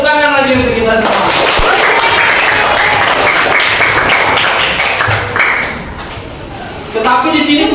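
A classroom of students bursts into clapping after the lesson, a dense, loud wash of hand claps filling several seconds, briefly thinning before resuming, with voices mixed in.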